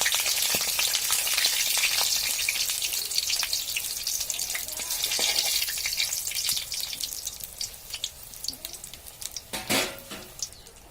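Pieces of green banana frying in oil in a pan give a steady, dense sizzle throughout, with brief clinks and scrapes as they are turned over near the end.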